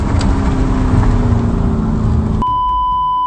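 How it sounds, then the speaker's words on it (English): A car engine roars past close by, loud and steady, then cuts off abruptly into a quieter scene with a steady electronic tone. "As he drove, another car raced past him."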